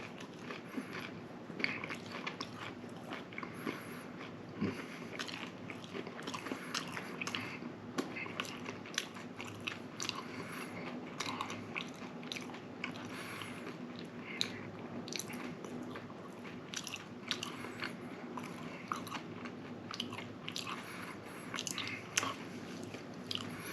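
Close, steady crunching and biting of crisp battered tilapia fish with ketchup, with wet squishy chewing sounds continuing throughout and no talking.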